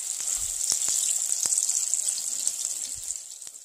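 Oil and butter in a pan over a low burner give off a faint, steady sizzling hiss with a few light pops and ticks, all quiet and close for a few seconds.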